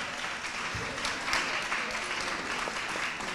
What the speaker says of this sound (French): que vous pouvez applaudir généreusement